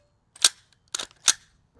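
A secondhand gas airsoft gun has its bolt worked by hand, giving three sharp metallic clacks with short gaps between them, close and alone with no talking.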